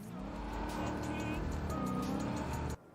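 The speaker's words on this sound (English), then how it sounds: "We'll go there in our stolen car." Stolen car driven in Horizon Forbidden West, a steady engine drone with tire noise and rising revs for nearly three seconds, then cutting off abruptly; faint voice underneath.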